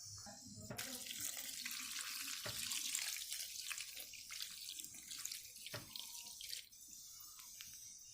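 In a home kitchen during cooking, water runs steadily from a tap into a sink with a few brief breaks in the flow. The sound is close but quiet.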